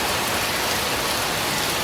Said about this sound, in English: The sound of rain you hear in the background was recorded by my neighbor, Breault.